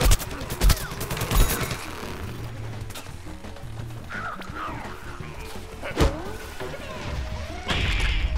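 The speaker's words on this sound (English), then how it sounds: "God dang it, another potato mine." A potato mine explodes in the video game Plants vs. Zombies Garden Warfare, loud blasts amid chaotic gunfire bursts, crashes and whooshes of game combat, with sharp impacts recurring through the scene.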